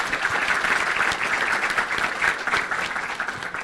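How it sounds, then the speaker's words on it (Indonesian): An audience at an Indonesian capital-market investor event in East Java claps together in a loud, continuous burst of applause, many hands at once, steady throughout the short stretch. "Saya boleh dengar dulu tepuk tangannya pada kesempatan ini."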